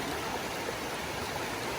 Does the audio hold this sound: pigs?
no